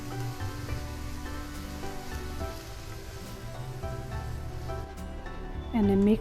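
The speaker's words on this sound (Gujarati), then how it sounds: "હવે એમાં વઘાર એડ કરી દઈશું." Hot tempering added to the rice and sizzling in the pan, a dense continuous crackle with a brief clatter near the end, and no voices.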